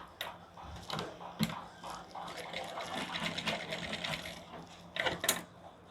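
A sewing machine stitches a strip onto a lined blouse in quiet, uneven bursts of whirring and clicking, close but faint, with a voice talking now and then.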